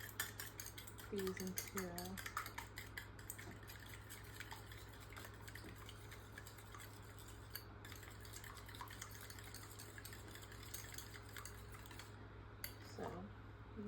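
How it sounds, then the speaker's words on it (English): Eggs are whisked with a fork in a bowl for scrambled eggs, quick metallic clinks and scraping taps against the dish over a faint steady hum, fairly quiet, with a voice briefly heard. "So now I'm going to whisk"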